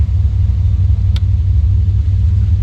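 A boat's engine runs on a splash day at the dock, a loud, steady low rumble up close with one brief sharp click partway through.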